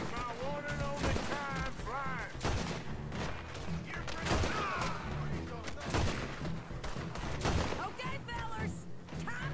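Rapid gunfire from a gun in the video game Red Dead Redemption 2, a dense fusillade of loud, repeated shots with a sharp crack to each, mixed with game sound and some talking throughout.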